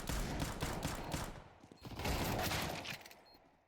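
Bursts of automatic gunfire ring out in a Counter-Strike esports match, two dense volleys separated by a short pause, fairly close and sharp, with no voices over them.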